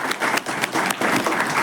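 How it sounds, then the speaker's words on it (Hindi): A crowd at a student gathering claps loudly for their teacher after a 100% first-division result, a dense, steady burst of applause that lasts throughout. "सबको मिल के एक बार सर के लिए जोरदार ताली बजाएं।"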